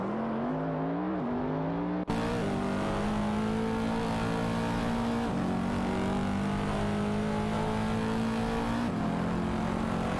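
Racing car engines in a sim racing game, including a Porsche 911 (991) GT3 RS, drone at high revs with shifting tones and gear-change dips, a steady loud mechanical whine throughout.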